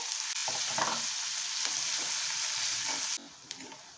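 Finely chopped onion frying in oil with Kashmiri red chili powder for a Maharashtrian matar paneer, a close, steady sizzle with stirring scrapes that cuts off abruptly near the end.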